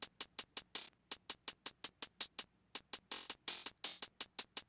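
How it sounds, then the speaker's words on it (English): A closed hi-hat sample in FL Studio with the out knob raised, played as rapid tight clicks in a busy pattern, some hits longer and washier, loud and dry with no voice. "See how we tighten up the hi-hat?"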